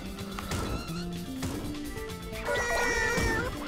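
Cats meow repeatedly in the Katamari Damacy video game, short cartoonish mews over busy game music and rolling clatter.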